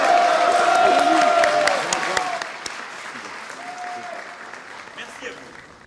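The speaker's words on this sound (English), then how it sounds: "So there you have it, some applause for Emmanuel Macron." Crowd applause for French President Emmanuel Macron, loud and thick at first and then fading steadily to a thinner patter, with voices and shouts mixed into the clapping.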